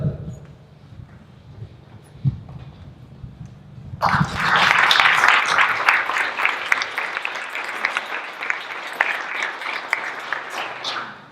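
Applause from a crowd at an Eagle Scout court of honor, breaking out suddenly after a quiet stretch with a few faint sounds, then continuing as loud, dense clapping from many hands for several seconds.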